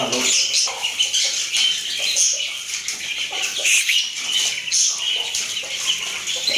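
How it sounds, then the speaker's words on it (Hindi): Bantam chickens cluck and squawk restlessly nearby at feeding time, with wing flaps and overlapping bird calls in a busy, continuous chorus. "बैंटर भी बेचारे बेचैन हो रहे हैं कि हमें भी दाना डालो"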